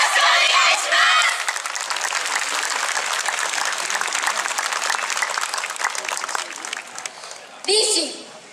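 Audience at the 2017 Hitachi no Kuni YOSAKOI Festival claps and cheers for the Fukushima Gakuin University YOSAKOI club Gekka Buryu before their final performance, a dense, loud, steady wash of applause lasting several seconds, with a brief shout rising near the end.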